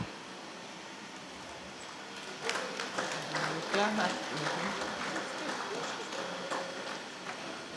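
Audience applause in a council meeting hall, a steady wash of clapping that swells after a couple of seconds and continues evenly, with faint voices underneath.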